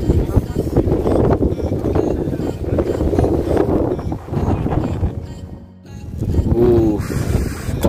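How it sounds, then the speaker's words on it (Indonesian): Strong wind buffets the microphone on the foggy summit of Mount Seminung, a loud, continuous roar that swells and briefly drops near the end, with people talking over it. "masih kenceng banget ini anginnya"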